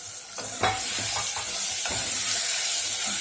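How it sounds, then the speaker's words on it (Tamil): Vegetables sizzle in hot oil with softened onion and tomato, with pepper, potato, radish and okra, for a dried fish curry, while a spoon stirs and scrapes the pan in a few sharp clacks over a steady frying hiss. "நல்லா வதக்கி விட்டுக்கலாம்"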